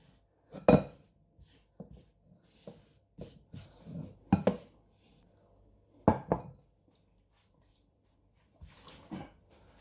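Pork mince with coriander and onion being mixed in a bowl, irregular close scraping and clinking knocks with quiet gaps between them, no talking.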